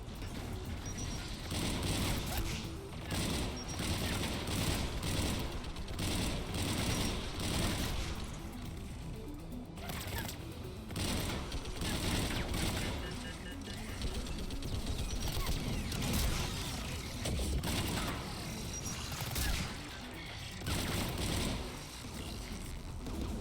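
Sustained, dense mechanical gunfire from automated turrets in Mass Effect 3, a loud continuous clatter of rapid shots and impacts running for over twenty seconds with brief dips, with no talking.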